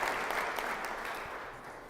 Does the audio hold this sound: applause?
yes